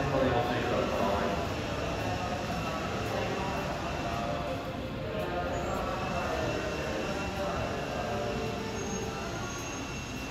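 A Tobu 8000 series train, set 8568 in a green test livery and running out of service, arrives at platform 2 of Kita-Senju station. Its rumble is loud and steady, with station announcements over it.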